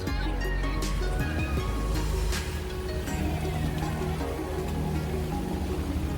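Rain falling on a sailboat at sea during a lightning storm, a dense steady patter and hiss with a few sharper drop hits, fairly loud and close, with no talking.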